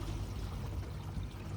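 Water pours and gurgles steadily out through a sloped RV sewer pipe during teardown of a Thor Palazzo motorhome, a low, continuous rushing flow heard close and alone.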